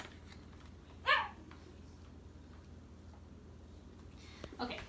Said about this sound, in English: I apologize for the dog in the background who's wanting to intervene and help in my instructions.